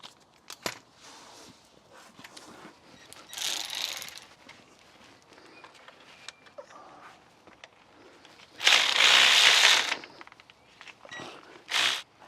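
Ratchet wrench clicking as two 13mm nuts come off the clutch slave cylinder on an R56 Mini Cooper S gearbox, close and moderately loud, with a long burst of rapid ratcheting near the end and scattered mechanical clinks between.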